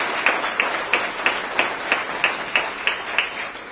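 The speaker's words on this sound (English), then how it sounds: "Please give these ladies and gentlemen a round of applause." Steady rhythmic clapping at an alumni awards ceremony, sharp regular claps about three per second, fairly close and continuous with no voices.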